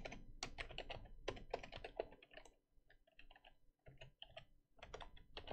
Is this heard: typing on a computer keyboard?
yes